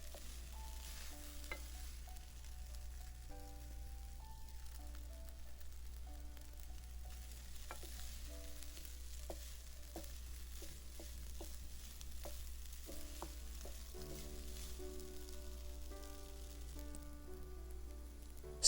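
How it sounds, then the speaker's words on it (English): Pineapple chunks are stir-fried into fried rice with shrimp, a faint steady sizzle with light spatula taps while soft background music plays throughout. "add pineapple chunks directly into the rice with the heat on. Keep stirring for 2 to 3 minutes"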